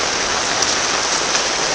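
Heavy, non-stop rain during a flood pours down as a dense, even hiss on surfaces, close and loud throughout with no voices.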